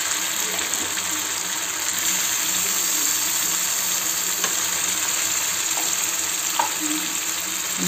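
Saag greens sizzle in a hot pan, a steady, close, continuous frying hiss with faint stirring clicks and no voices.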